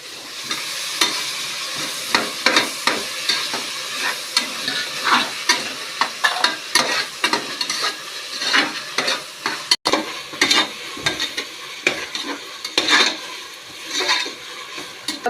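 Tomatoes stirred and frying in a pan for Tamil raw-banana rice (vazhakkai sadam): a steady sizzle broken by frequent scraping clicks and clatter of a spoon against the pan, close and moderately loud throughout, with no voices.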